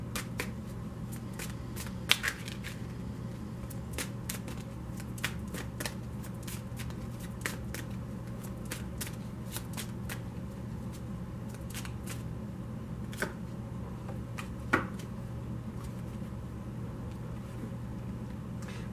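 A tarot deck is shuffled over and over, giving a long run of crisp, irregular card riffles and snaps that sit close and loud above a steady low background hum, with no voices.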